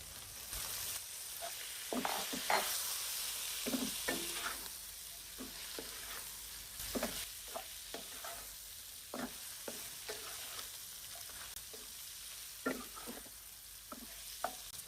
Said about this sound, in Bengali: তারপর আমি ভেন্ডিগুলো দিয়ে দিচ্ছি।